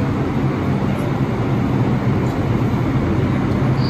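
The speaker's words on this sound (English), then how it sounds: "This is a Brooklyn-bound 4 train." Steady broadband roar of a Brooklyn-bound R142 4 subway train running between stations, loud and continuous with no breaks.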